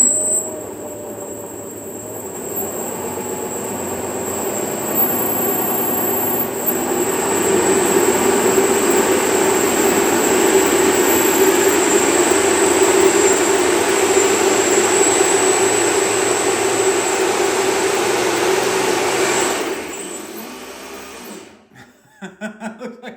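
A 3D-printed RC EDF turbine spins up with a loud, steady whining roar and a high tonal whine that holds for about twenty seconds, then cuts out abruptly, followed by brief rattling bursts.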